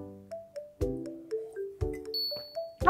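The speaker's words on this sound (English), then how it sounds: "Oh, looks like I have a notification." A phone notification chime rings out in a quiet home kitchen as a short series of soft, bell-like pings and tones, close and clear with no voices.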